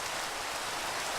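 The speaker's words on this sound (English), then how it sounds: "And as you can tell, it's also raining." Steady, dense rain in the Minecraft video game hisses evenly and loudly throughout, with no other sounds.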